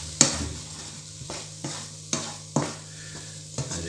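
Spice mix sizzling in a hot pan while being stirred, a soft steady sizzle broken by several sharp scraping strokes of the utensil against the pan, close up with no talk.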